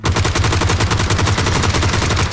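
Rapid automatic gunfire in the video game PUBG on a snowy map, a loud, dense burst of repeated shots running steadily through the whole moment with no talk over it.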